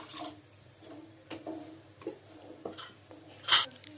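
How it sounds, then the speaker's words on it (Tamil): Water is poured into a pot of chickpea kurma, a soft wet pour with a few faint clinks of utensils, ending in a brief louder splash near the end. "இப்போ தேவையான அளவு தண்ணி ஊற்றிக்கலாம்"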